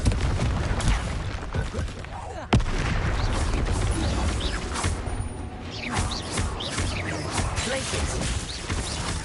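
Blasting-curse explosions go off repeatedly during spell combat in the video game Hogwarts Legacy, booms and crashes layered over a continuous noisy battle bed with a sharp hit partway through.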